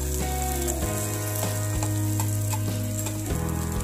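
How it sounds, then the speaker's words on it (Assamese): Chopped onions sizzle and fry in a pan for a spine gourd dish, a steady crackling hiss with a few scraping stirs and some background music, no talking. "এতিয়া মই কাটি ৰখা পিঁয়াজখিনি ইয়াত দি লৈছোঁ আৰু এইখিনি যেতিয়ালৈকে ৰং সলনি নকৰে তেতিয়ালৈকে এইখিনি মই ভাজি থাকিম"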